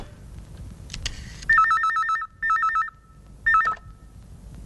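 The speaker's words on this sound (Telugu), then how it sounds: "అలాగే నేను ఫోన్ చేస్తాను." A telephone rings in an office-style scene in a Telugu comedy film: three short electronic warbling bursts come close and clear, separated by brief pauses.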